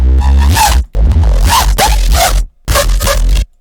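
Crunchy, distorted Serum synth sounds in three loud, gritty bursts with short silent gaps between them, scraping and tearing in texture like a zipper, no talking.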